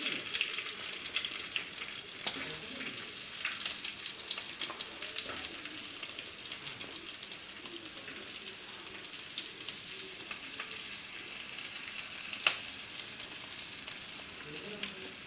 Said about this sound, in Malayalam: സവാള ആഡ് ചെയ്യുകയാണ്.